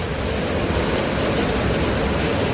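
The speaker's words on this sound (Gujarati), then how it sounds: "હજી વરસાદ બંધ નથી થતો" Heavy rain pours down during a work day outdoors, a dense, constant hiss filling the clip with no breaks, loud and close, without any voices.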